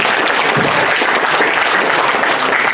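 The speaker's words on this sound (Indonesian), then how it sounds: "Tepuk tangan dulu ya." Audience at a disaster-management discussion on flood handling bursts into loud, dense applause, steady continuous clapping from a crowd throughout.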